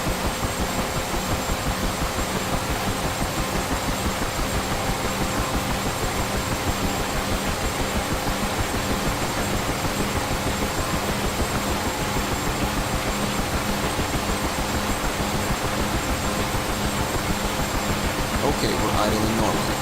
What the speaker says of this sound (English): The helicopter will toss you around quite a bit as the rotor spins up.